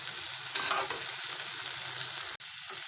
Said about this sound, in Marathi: आता हे परत चांगलं परतून घ्यायचं।